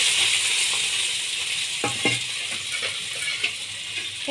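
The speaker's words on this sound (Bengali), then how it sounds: "তেলটা গরম হয়ে যাওয়ার পর আমি এখানে কুচোনা আলুগুলো দিয়ে দেব" Diced potatoes fry in hot mustard oil in a wok, giving a steady broad sizzle with a few faint clinks of utensils, close and continuous, no talking.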